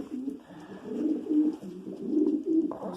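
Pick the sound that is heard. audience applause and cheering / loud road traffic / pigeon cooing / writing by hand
pigeon cooing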